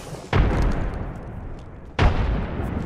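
Two loud frag grenade explosions in the Apex Legends battle royale game, the first at about a third of a second and the second about 1.7 s later, each a sharp broadband boom followed by a sustained rumbling tail.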